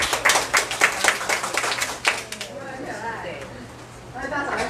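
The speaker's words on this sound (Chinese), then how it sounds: "谢谢大家的掌声" Scattered hand clapping from a seminar audience in Luzhou, a short round of applause that fades after about two seconds while voices talk and murmur underneath.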